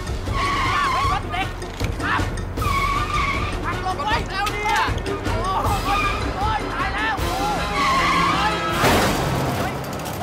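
A car whose brakes have failed skids with repeated loud tire squeals over a running engine. Excited voices shout over the noise, and a sharper burst of noise comes near the end.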